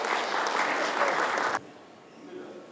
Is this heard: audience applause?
yes